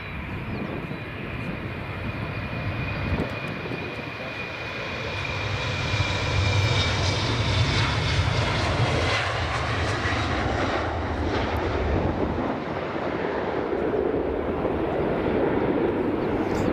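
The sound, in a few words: airliner taxiing at Edinburgh Airport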